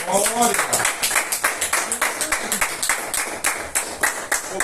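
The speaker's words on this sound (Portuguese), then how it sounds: "aplaude ao Senhor" A church congregation applauds during a Portuguese-language sermon, a steady stream of claps under a preacher's raised voice that opens the stretch.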